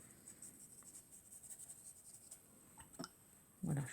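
A brush spreads water across black watercolor paper, giving soft, faint scratchy strokes close up, ending with a brief louder bump.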